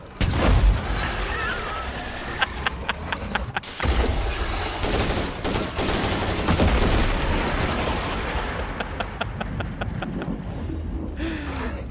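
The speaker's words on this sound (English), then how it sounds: "I'm actually going to use this anti-tank mine on the Plague Heart." An anti-tank mine detonates against a Plague Heart in State of Decay 2, with loud booming blasts and dense crackling gunfire-like bursts filling the whole stretch and a brief drop near the middle.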